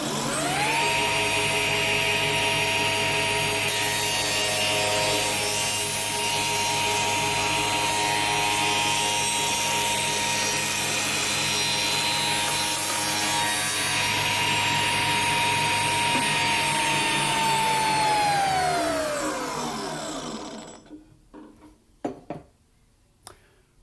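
A spindle moulder cuts a groove in wood with a loud, steady, tonal machine whine for about twenty seconds, then winds down as the spindle slows. A few clunks follow.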